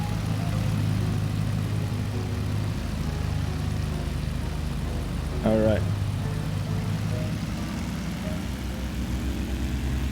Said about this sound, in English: There's these two big Lycoming engines right next to our ears here.